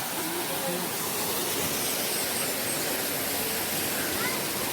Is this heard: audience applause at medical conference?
no